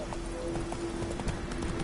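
Roach the horse's hooves clip-clop at a steady walking pace in The Witcher video game, a soft repeated thud over a constant ambient game hum with no one talking.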